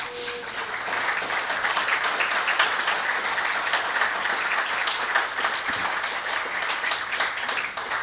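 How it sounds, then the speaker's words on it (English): A banquet audience at a Rotary Club annual dinner gives a round of applause for the board members, steady, full clapping from a large crowd sustained throughout. "Give them a round of applause."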